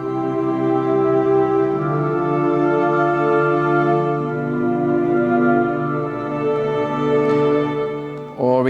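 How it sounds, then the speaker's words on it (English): Sustained organ chords with added woodwind voices play as one instrumental passage at a steady, even level, with a short note change near the end. "We can also add some woodwinds here, and it will sound like this."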